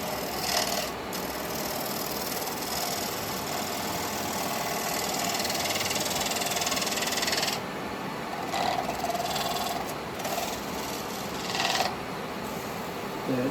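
Wood lathe turning a slightly out-of-shape blank slowly with carbide chisels in the cold, a steady continuous scraping hiss with brief dips as the tool lifts off.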